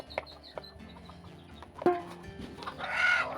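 Hens cluck in short bursts close by as they are fed, with scattered clatter and a sharper squawk near the end.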